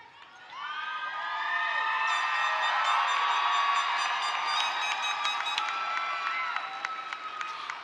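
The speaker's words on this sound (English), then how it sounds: "They stand today to applaud and say thank you" Graduating students at a John Marshall and Classen SAS high school graduation stand and applaud, a dense, sustained wave of clapping and cheering that builds quickly and holds steady, with whistles and shouts mixed in.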